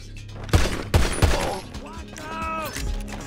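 Video game gunfire in Last Dose 3: three loud, sharp shots in quick succession, then quieter in-game sounds and a voice briefly speaking.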